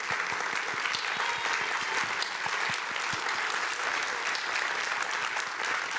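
Audience at an evening talk on pardon power applauding two honorees, a steady, fairly quiet wash of many hands clapping throughout, with distinct individual claps audible within it.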